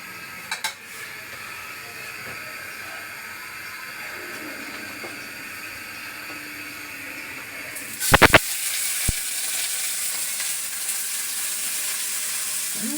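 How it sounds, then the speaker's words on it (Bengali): Shutki (dried fish) fried on a stove makes a continuous faint sizzle and hiss, with a few sharp clatters near the middle and a slightly louder frying sound afterward, no talking. "শুটকিটা আমি এই চুলায় ভেজে নেই"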